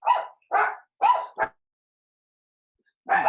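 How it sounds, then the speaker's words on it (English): A dog barks in a quick series of four sharp, fairly close barks, then falls silent before a fifth bark breaks out at the end. "Well, the dogs are obnoxious."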